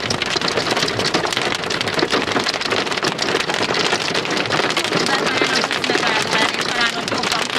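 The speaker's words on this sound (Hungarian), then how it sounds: "Hú, de kegyetlen ez a jégverés." Hail pounds down hard and continuously in Dabas, a dense, loud, close clatter of ice striking surfaces that goes on without a break.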